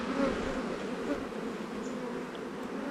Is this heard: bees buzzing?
yes